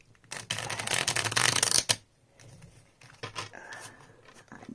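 Mini tarot deck, small and thick, riffle-shuffled in a dense rapid burst of card flutter lasting over a second. A sharp snap closes it, then quieter handling and card rustles follow at close range.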